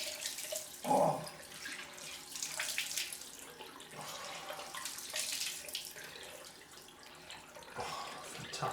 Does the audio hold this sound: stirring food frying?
no